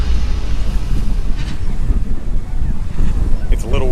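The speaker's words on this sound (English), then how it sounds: "It's a little windy out today" Strong seaside wind buffets the microphone in a steady low roar at Key West, loud and continuous with faint distant sounds beneath.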